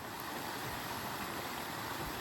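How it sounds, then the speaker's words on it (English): A small creek in a state forest flows with a steady, broad rushing wash, constant and fairly faint throughout, with no other sounds standing out. "This is a small creek I have to ford."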